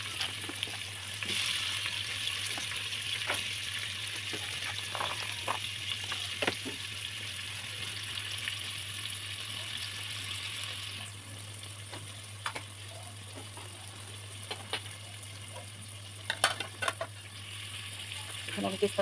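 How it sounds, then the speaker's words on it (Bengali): Onions frying in oil for beresta for pea pulao make a quiet, steady sizzle over a low hum, broken by scattered clicks and knocks from stirring. "এখানে আমি বেরেস্তার জন্য পেঁয়াজ দিয়ে দিচ্ছি।"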